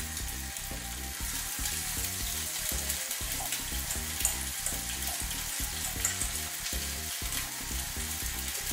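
Milk-dipped coated fish nuggets fry in a pan with a dense, continuous sizzle and crackle, alongside a rhythmic low thumping pulse that repeats steadily underneath.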